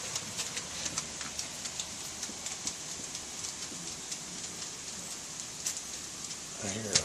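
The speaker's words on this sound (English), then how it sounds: "It's raining." Rain falling steadily outdoors as a storm rolls in, a dense hiss of drops with light taps on nearby surfaces, continuous and fairly close, ending with a brief bird chirp.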